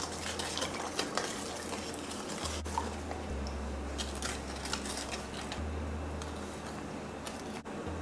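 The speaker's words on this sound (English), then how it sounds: "we're going to add the dry ingredients to the wet, and we're going to mix this" Dry ingredients being mixed into a wet halwa batter give repeated scraping and clinking of a utensil against a bowl, with a low steady hum underneath and no voices.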